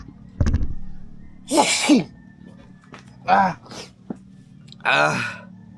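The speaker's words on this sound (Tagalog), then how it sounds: "Hatsing ako ng hatsing, bahing ako ng bahing" Several sharp human sneezes, loud and close, spaced out with short pauses and faint breaths between them, over a quiet low background hum.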